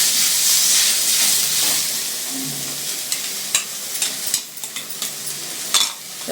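Tomato, grated coconut and poppy seeds for mutton sambar sizzle in a pan while a spoon stirs them, the steady frying hiss giving way to a run of scraping and clinking stirring strokes, close and clear, with no talking.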